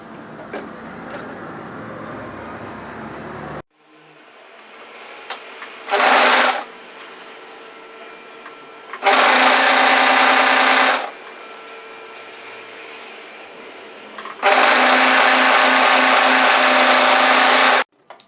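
Close sewing machine stitching a contrast panel insert on a hoodie, running in three loud sustained bursts of steady whirring separated by quiet pauses, after an opening stretch of lower mechanical hum.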